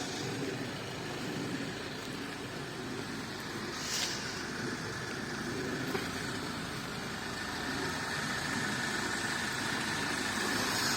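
A parked Toyota car idles outdoors in a steady, low, continuous rumble heard from a short distance, with a couple of faint clicks over the drone.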